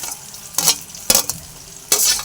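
Onions sizzle in hot oil with coriander and curry leaves, a quiet steady fry broken by three bursts of louder crackling as the pan is stirred.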